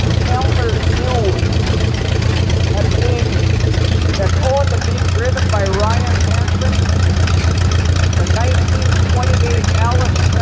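A 1928 Allis-Chalmers Mule steel-wheel tractor runs at a steady low idle during a tractor parade, a constant deep engine drone beneath a commentator's amplified voice.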